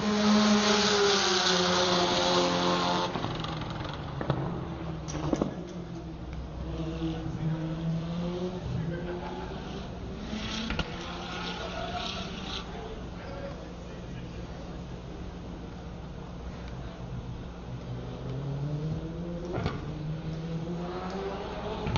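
A GTA-season race car running a final hot lap at Buttonwillow, its engine revving with rising and falling pitch sweeps and shifts throughout, loud and sustained, with a commentator talking over it.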